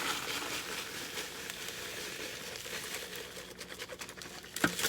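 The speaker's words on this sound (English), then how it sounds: "I'm going to pour this also into a freezer bag," Crumble poured into a plastic freezer bag gives a soft, faint crinkle and patter under low background noise, with a slightly sharper rustle near the end.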